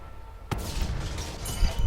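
A tank cannon fires from behind bushes in World of Tanks on a Char Futur 4, a single sharp loud blast followed by a rumbling tail and engine noise.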